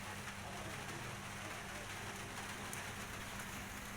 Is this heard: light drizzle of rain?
yes